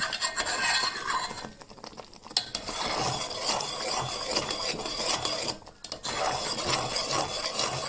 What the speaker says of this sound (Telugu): ఒక టూ మినిట్స్ ఈ విధంగా కలుపుతూ మిక్స్ చేసేసుకోవాలి